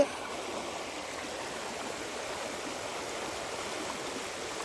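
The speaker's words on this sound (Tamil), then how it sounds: "சலசலன்னு தண்ணி ஓடுற சத்தம்" Water rushing steadily along a stream beside a betel vine garden in Kumbakonam, a constant broadband gurgling hiss, close and even in level throughout with no voices.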